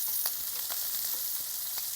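Venus Bay prawns fry on high heat in a pan with speck fat, giving a constant bright hiss of sizzling oil with a few faint clicks of stirring, near and steady.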